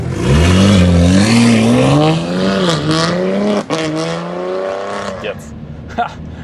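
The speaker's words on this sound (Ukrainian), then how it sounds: "Ну, а вихлоп ви чули, як звучить вживу." A BMW M4 exhaust revs loudly and close, pitch rising and falling in long sweeps, then settling to a deep rumble before a few sharp blips.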